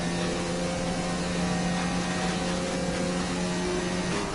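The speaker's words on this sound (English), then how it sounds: "You can hear the engine sound there of Montana" A Formula 1 car engine in the racing game F1 2019 at the Italian circuit drones steadily with a sustained tonal whine, loud and continuous throughout with no voices over it.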